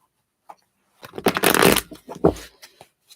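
Tarot cards are shuffled in the hands during a reading, giving a close, brisk riffling burst of about a second after a single soft tap, followed by a few lighter card flicks.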